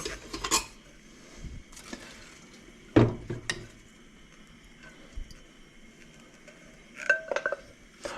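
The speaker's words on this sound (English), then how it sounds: "Start cooking it. Sure, it fits. I'm gonna stir it." Witch hazel cooks in a pot on the stove while being stirred, giving occasional clinks and scrapes of a utensil against the pot over a quiet background, close but sparse.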